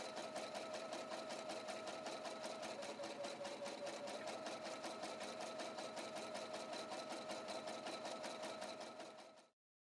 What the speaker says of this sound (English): Place the edge of the fabric along the wire on the foot and sew.